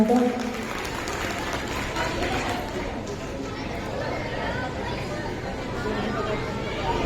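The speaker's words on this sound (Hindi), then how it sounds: "एक जोरदार तालियों से फिर से स्वागत करते हैं महिलाओं का" An audience at a school's annual function applauds women performers, sustained clapping and crowd chatter blending with an announcer's voice.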